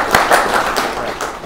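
Brief burst of audience clapping at a Netherlands Atlantic Association talk, a few sharp claps in quick succession, close and fairly loud.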